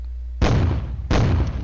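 Two heavy, loud secondary explosions go off from artillery hits in a video game combat scene, each a sudden broadband blast that rumbles on without a break, the second arriving about 0.7 s after the first.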